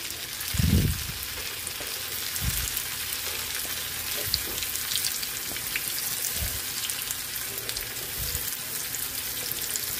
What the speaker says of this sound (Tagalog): Piprito na po tayo ng ating tokwa